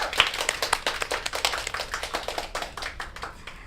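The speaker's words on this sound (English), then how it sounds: "let's give him a round of applause" A small group clapping for an invited guest, sharp individual claps close by that thin out and soften toward the end.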